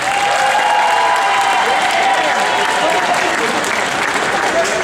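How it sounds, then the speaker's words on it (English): A large audience claps in a dense, continuous wash at a robotics competition unveiling event, loud and close throughout, with some cheering and voices mixed in. "clap if you were at Cal State Northridge 5 years ago"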